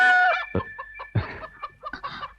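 A chicken clucks several times in short, choppy bursts, near and clear, with a brief higher call at the start, outdoors around a house.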